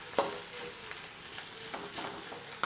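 Masala being stirred into an ivy gourd curry in a pan, a quiet gentle sizzle broken by soft scraping strokes and a light clink, close and alone.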